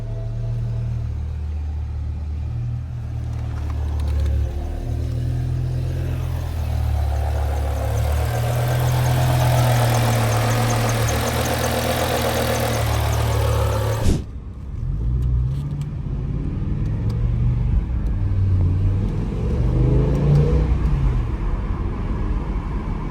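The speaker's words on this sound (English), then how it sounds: "you guys are gonna see me right here, starting the car and doing our first test drive" A BMW E60 M5 with its V10 engine running: a loud, steady low rumble throughout, broken by a sharp jolt about two thirds of the way in, after which the engine note shifts and carries on. No one speaks.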